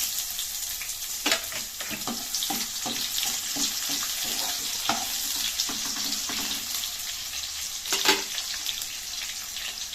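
Chopped onions and bay leaf frying in hot oil, a loud, continuous close sizzle with occasional spatula taps and scrapes breaking through.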